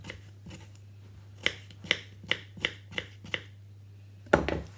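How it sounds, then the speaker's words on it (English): A knife finely slices coleslaw salad vegetables on a board, giving a series of crisp, evenly spaced close cuts ending in a louder scraping chop. "I'm just going to finely slice this little bit up"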